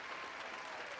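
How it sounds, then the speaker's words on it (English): A crowd applauding for teachers at an unscripted talk show, a dense steady wash of clapping that holds at even strength across the whole moment, fairly faint and without a break. "give them a round of applause, man"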